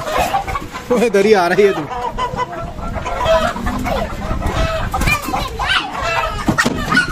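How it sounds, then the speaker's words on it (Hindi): Home-breed chickens in a pen cluck and squawk in close, busy bursts, with a rooster-like call mixed in, while someone talks over the birds. "अच्छा भैया मुर्गियों को निकालते हैं सबको और इनका वेट करेंगे"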